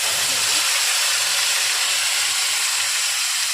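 Whole garam masala, bay leaf and cumin fry in hot oil over low flame, giving a loud, dense, continuous sizzling hiss that holds steady throughout.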